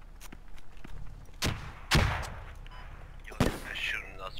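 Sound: gunfire in the video game Squad

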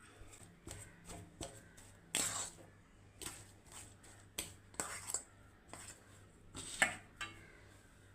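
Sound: mashing boiled sweet potato

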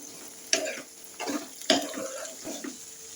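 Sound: ginger garlic paste stirred and frying in pan

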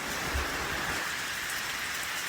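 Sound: rain falling on a highland pasture

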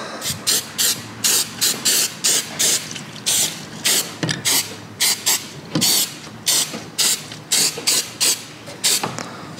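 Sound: spray glue being sprayed

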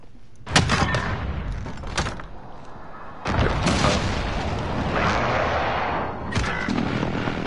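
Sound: precision airstrike explosions in Call of Duty Modern Warfare video game

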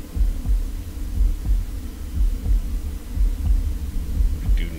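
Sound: heartbeat sound in video game Bermuda Lost Survivor

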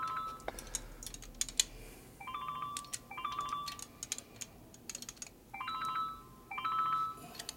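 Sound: phone ringtone

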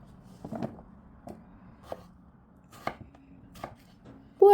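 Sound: chopping potatoes into cubes with a knife

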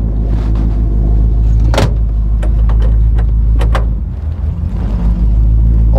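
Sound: old Chevy 283 engine with Powerglide running

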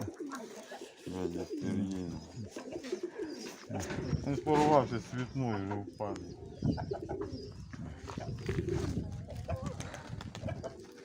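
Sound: pigeons cooing

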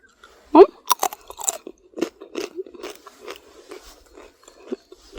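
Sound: crunching pasta chips made in an air fryer

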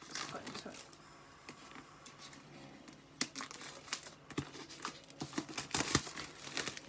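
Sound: opening packaging with a cuticle cutting tool

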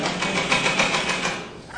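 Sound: motorcycle engine struggling to start in the cold

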